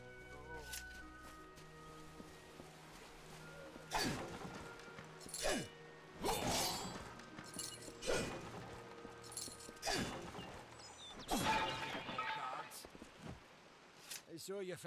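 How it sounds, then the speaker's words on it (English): Crates and boxes smashed one after another in Kingdom of Amalur: Reckoning, a series of sharp cracking breaks spaced a second or two apart over low game ambience and background voices. "You don't mind me smashing literally all of your boxes."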